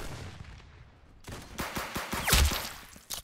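The Calibri gun fires in the video game Arsenal, a rapid run of sharp shots coming after a quieter stretch and building to a louder burst near the end.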